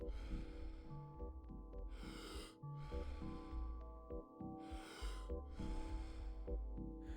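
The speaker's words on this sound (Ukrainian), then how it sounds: "Потужний вдих, легкий видих." Wim Hof breathing exercise with forceful nasal inhales and softer exhales repeating in a steady rhythm, close and loud over a sustained droning musical backing.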